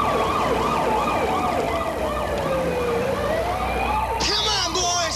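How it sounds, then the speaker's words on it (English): A police car siren wails in repeating rising-and-falling sweeps, loud and fairly close, over a steady engine rumble, with a few brief higher bursts near the end. "Hit your lights and siren."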